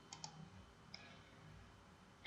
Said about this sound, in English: Now we will close this dialog box by clicking on Save.